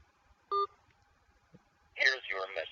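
A single telephone keypad tone is heard as a short, clear electronic beep, followed after a pause by a voice speaking.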